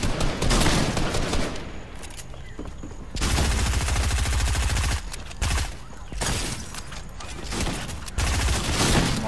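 Rapid bursts of gunfire from a shotgun and SMG in the video game Fortnite, loud and repeated in clusters with brief pauses between volleys.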